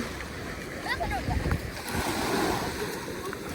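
Cold sea water washing and splashing around a child swimming and playing with a ball at Mission Bay beach, a continuous close rush of surf and splashes with wind buffeting the microphone and voices faintly mixed in.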